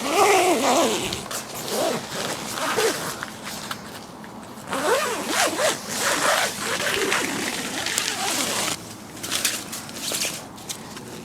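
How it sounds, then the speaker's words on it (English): The zipper on the mosquito-mesh front of a Prologic Selecta two-man fishing bivvy is pulled along its track in a run of rasping strokes, close by and fairly loud, with no voices. "Then that'll just zip up all the way over."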